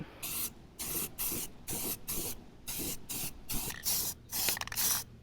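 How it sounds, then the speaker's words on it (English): Rust-Oleum self-etching primer hisses from a spray can onto wheels for a 1967 Plymouth Fury in a string of about eight short, even bursts, each about half a second long, with brief pauses between them. "This is Rust-Oleum self-etching primer."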